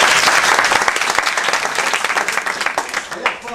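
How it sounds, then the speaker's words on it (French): Lively audience applause at a French rap event, dense sharp clapping that gradually thins toward the end with a few voices underneath. "applaudissements s'il vous plaît"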